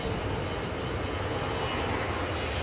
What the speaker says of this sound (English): Nice touchdown from the EasyJet